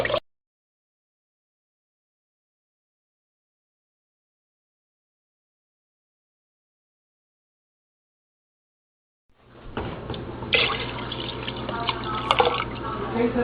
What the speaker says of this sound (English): Now you just add some water to it.